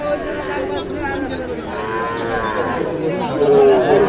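A calf at a Mymensingh cattle market bellows in drawn-out moos amid a crowd's murmur, with livestock and people chattering around it in a busy, close setting.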